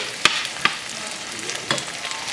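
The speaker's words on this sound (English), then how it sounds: "a scoop of rice here that we'll just go and fry it a little bit" Rice frying in a pan with green beans and roast beef, a soft steady sizzle broken by a few sharp scraping stirs, close and without talk.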